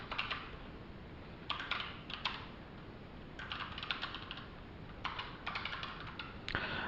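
Keys clack on a computer keyboard in several short bursts of quick typing, with pauses in between, close and fairly quiet over a faint room hiss.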